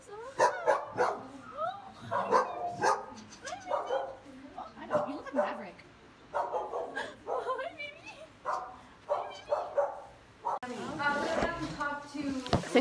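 Several dogs bark, yip and whimper in short bursts nearby, with excited people talking over them.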